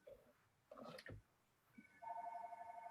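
A telephone rings in a room during a conversation, a steady warbling electronic ring that starts partway through and continues, after brief bursts of speech and noise.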